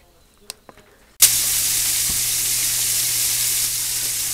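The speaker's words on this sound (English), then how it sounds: "Can you hear me over the sizzling?" After a few faint clinks, pork chops hit a hot pan with a sudden loud sizzle that continues as a steady, crackling hiss while they brown.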